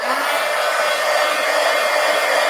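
A hair dryer blows close and steady, drying wet paint on a slick altered book page, with a constant loud airy whoosh and no break.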